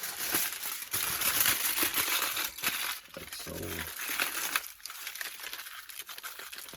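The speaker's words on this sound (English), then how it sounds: "Got one last piece of foil paper here that I want to kind of bump up and smash on it." Foil paper crumpled and smashed by hand, with dense crinkling and crunching bursts throughout, loud and close, interrupted by a brief spoken remark.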